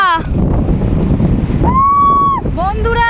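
Wind and waves at a seaside beach: a constant broadband rush of surf and gusting wind across the microphone, loud and close, with brief voices heard over it.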